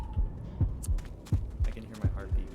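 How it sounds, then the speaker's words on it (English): In Left 4 Dead 2, a low-health heartbeat pulses steadily as deep, muffled double thumps repeating about every 0.7 seconds, with a hum and game noise in the background. "I can hear my heartbeat."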